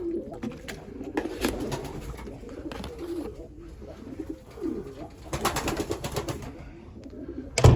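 Pigeons coo repeatedly at a dish of warm water set out for them, with soft, overlapping calls close by and light rustling and fluttering around them.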